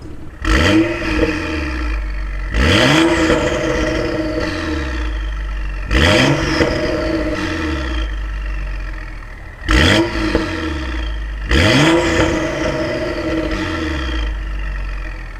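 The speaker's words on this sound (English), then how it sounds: "Hey Rob, you want to give her some revs?" A BMW N55 engine revs through a BRSF catted downpipe with the resonator deleted, a custom Y pipe and the stock muffler with valves open. Four sharp rev blips rise and fall over a steady idle, loud and close, with a turbo whine.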